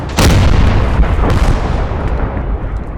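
Artillery fire in the video game Gates of Hell: one loud, deep booming blast with a long rumbling roll that slowly fades, and a faint second thud partway through.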